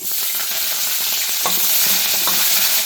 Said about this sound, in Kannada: ಇವಾಗ ಕಡಲೆಬೇಳೆ, ಉದ್ದಿನಬೇಳೆನ ಚೆನ್ನಾಗಿ ಫ್ರೈ ಮಾಡ್ಕೊಳ್ಳಿ